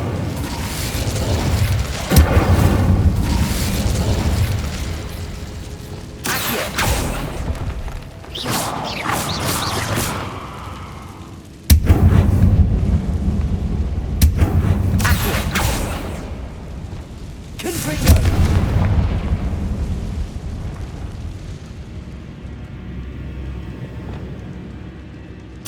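Incendio fire spell blasts in Hogwarts Legacy erupt as several loud, sudden whooshing booms spaced several seconds apart, each decaying into a rumbling fiery roar over a low mechanical background.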